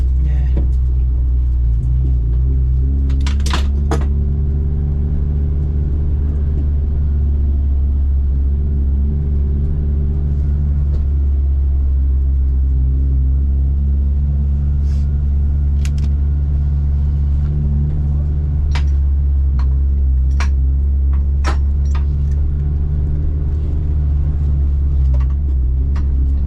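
A Hyundai Excel race car at Mallala Motorsport Park drives on the track with a loud, steady engine drone and deep low rumble that holds throughout, with faint voices over it.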